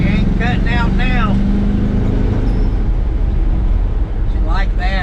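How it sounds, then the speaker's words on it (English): A pickup truck's engine roars under heavy throttle with a deep, sustained drone, while a person's voice breaks in briefly at the start and again at the end. "let's just kind of mash the gas here"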